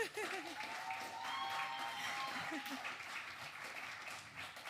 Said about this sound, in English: A round of applause for Didier once again